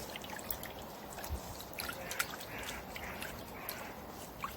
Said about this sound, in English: give those potatoes a really good wash so they're nice and clean